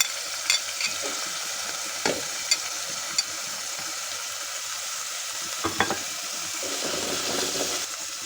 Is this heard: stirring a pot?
yes